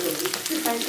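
Chopped onion frying in a pan with tomato nearby, a steady close sizzle with soft stirring scrapes throughout a brief moment, no voices.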